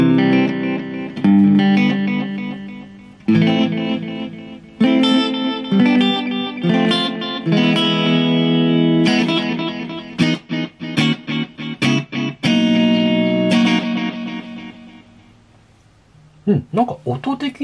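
An electric guitar plays through a vintage Showa-era analog multi-effects unit with compressor and delay, a loud sequence of clean, sustained chords and picked notes with echoing tails, fading near the end as a voice speaks.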